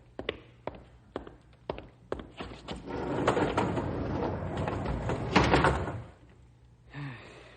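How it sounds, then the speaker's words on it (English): Doors close in a radio drama, a run of sharp knocks and clunks followed by a long rattling slide and a final thud, near and loud. "Close the doors, Rube."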